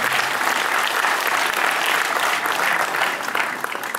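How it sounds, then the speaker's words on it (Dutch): Sustained audience applause fills a casino hall during a brass band concert, a steady wash of many hands clapping at an even level before easing slightly at the end. "Groot applaus."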